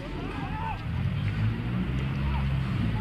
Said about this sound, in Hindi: ट्रैक्टर देखिए, ट्रैक्टर आपको दिखेगा, ट्रैक्टर आ रहा है